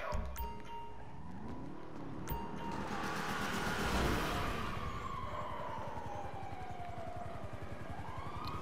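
A car in Grand Theft Auto roars past with a rising and falling engine and a siren sweeping overhead, loud and continuous throughout.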